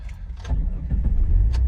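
A Jeep WJ engine starts up, a brief cranking catch settling into a low, close engine rumble that builds toward the end.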